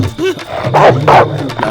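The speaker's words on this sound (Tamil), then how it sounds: "மாப்பிள்ள நாயிடா." A dog gives two quick, loud barks close by in a movie scene, with faint vocal sounds just before them.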